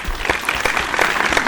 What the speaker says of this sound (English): I should probably put some sort of stock canned applause in here